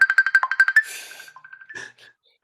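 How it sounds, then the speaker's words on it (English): A computer's rapid electronic ringtone trills in quick repeating pulses, then a few softer tones fade out into silence. "Oh, why is my computer ringing?"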